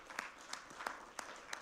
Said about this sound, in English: A big round of applause to our presenters here